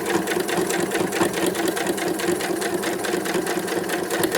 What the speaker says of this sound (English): And now I am stitching around.